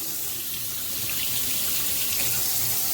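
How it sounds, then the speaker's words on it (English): Warm water runs steadily from a sink tap in a continuous, even rush with no breaks and no voices over it. "I've got my water running in the sink here"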